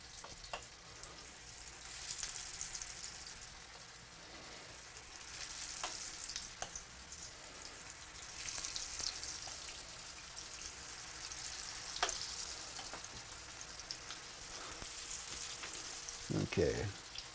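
Spoonfuls of hushpuppy batter fry in hot oil, giving a steady close sizzle and crackle throughout, with a few sharper pops and a brief clink of a spoon near the end.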